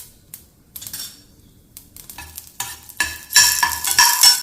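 Mustard seeds burst in hot oil with rapid crackling and popping that builds into a busy spluttering sizzle, loud and close, with a few utensil clinks.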